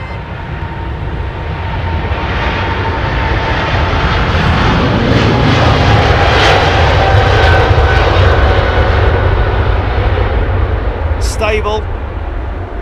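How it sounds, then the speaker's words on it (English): Airliner jet engines spooling at takeoff thrust on a Heathrow runway, a loud sustained broadband roar holding steady for the whole stretch, with a brief voice speaking over it. "Take off thrust set."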